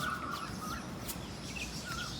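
Sparrows chirp outside near nests set up by a house in Gujarat, faint high tweets scattered over a quiet background with no talking.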